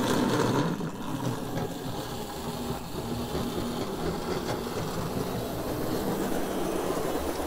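A Hornby model train rumbles steadily along its track with a dense mechanical whir and faint rhythmic clicking, continuous and close by.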